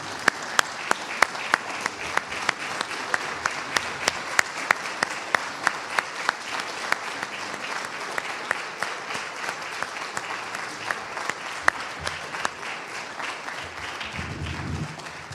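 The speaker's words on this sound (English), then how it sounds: "Let's give one more big round of applause to these teams." An audience at a college athletic Hall of Fame induction ceremony gives teams a sustained round of applause, dense steady clapping with a few louder individual claps standing out, lasting about fifteen seconds.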